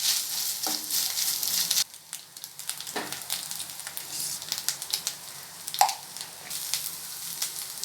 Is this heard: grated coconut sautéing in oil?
yes